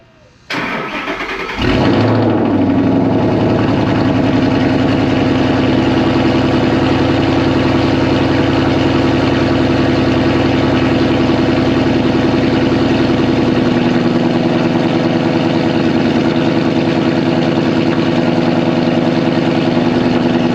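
Cold start of a 2013 5.0 V8 with no cats, a BBK X-pipe and no resonators: a brief starter crank, a loud catch and rev, then a steady deep rumbling idle that continues close up without talking.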